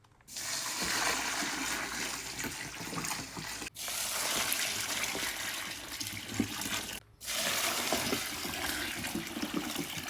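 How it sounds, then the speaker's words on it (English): Hot water streams into a container of horse feed cubes to soak them, a steady close pouring and splashing that stops briefly twice and then resumes, with no voices. "Then I add water to soak all of this in for about 30 minutes to an hour."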